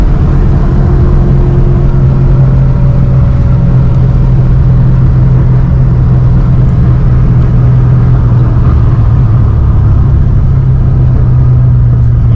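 A Cadillac CTS-V V1 with a BTR cam cruises at steady speed, its loud, continuous low engine drone and rumble holding evenly throughout with a faint higher whine above.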